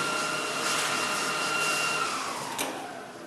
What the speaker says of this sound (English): I'll just grind that sucker off there.